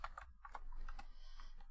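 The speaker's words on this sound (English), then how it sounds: "I'll get very quick at typing this" Rapid typing on a computer keyboard, with quick, close key clicks in uneven bursts and short pauses between them.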